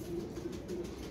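Pigeons kept for flying by a Pakistani pigeon fancier coo softly in a short run of low, throaty murmurs, fairly close and steady, with no one speaking.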